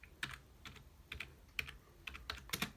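Steady typing on a computer keyboard while entering a command, with about eight distinct, evenly spaced key clicks that are close and fairly clear over a quiet background.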